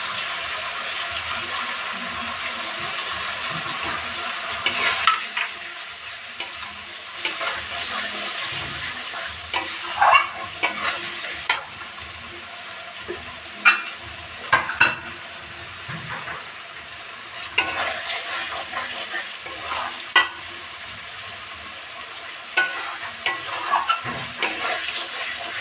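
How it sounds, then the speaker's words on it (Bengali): Spice masala with ground turmeric fries in oil for a chicken curry while being stirred, soft sizzling under repeated scraping and clinking of the spoon against the pan, close and intermittent. "মশলাটা ভাজা হয়ে গেছে"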